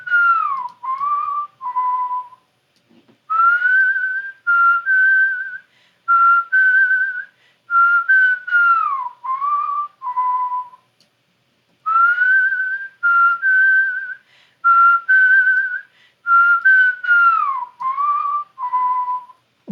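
Someone whistles a clean, bright melody on a recorded vocal track, phrases of sliding and held notes separated by brief gaps, close and dry with no talking.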